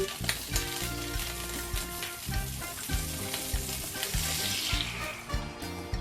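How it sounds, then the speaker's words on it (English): Butter and heavy whipping cream sizzle steadily in a pan over medium heat, with a close, continuous frying hiss and faint scraping underneath, no talking. "we are going to add the butter, the heavy whipping cream"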